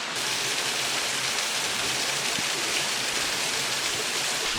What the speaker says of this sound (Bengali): ঝর্ণাটা দেখার চেষ্টা করি